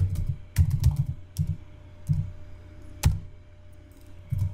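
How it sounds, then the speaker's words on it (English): Someone types on a computer keyboard, sending short bursts of clustered key clicks with brief pauses between them, close and moderately loud with no talking. "i'm just going to type inventory here"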